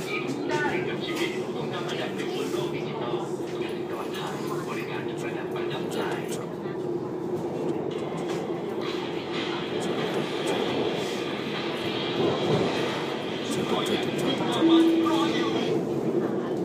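A subway train pulling into Chatuchak Park station, giving a steady low rumble and hum with a faint rising whine near the end, while a recorded announcement plays over it.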